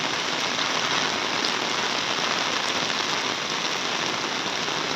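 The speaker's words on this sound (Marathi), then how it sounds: "पाऊस मोठा पडला" Heavy rain pours steadily during a cloudburst in Mukhed taluka, a dense, even hiss of water on surfaces that stays loud throughout with no voices.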